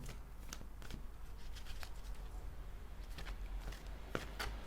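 Angel tarot cards shuffled by hand, a quiet steady riffling and sliding of cards with soft irregular flicks, close up and alone.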